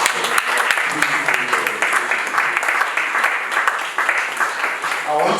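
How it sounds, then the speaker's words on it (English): Audience applause at a university ceremony for World Blood Donor Day, a steady broadband wash of clapping from a crowd that continues at even strength throughout, with no clear voice over it. "can we give him another round of applause?"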